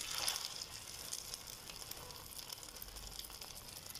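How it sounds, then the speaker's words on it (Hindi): Egg burger patties frying in a hot pan give a steady, soft sizzle and crackle that runs unbroken throughout, fairly close and alone without any talk. "इसी तरीके से हम लोग बाकी की भी फ्राई करते जाएंगे।"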